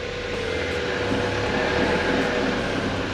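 A Mazda MX-5 engine idles in a garage with faulty brakes, a steady broadband hum with a low drone and no revving, continuous and unchanging.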